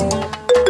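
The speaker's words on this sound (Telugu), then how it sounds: "ఇప్పుడు ఎవరు ఫోన్ చేసేది?" A mobile phone rings with a short melodic electronic ringtone, a few bright, close tones in quick succession, loud and alone.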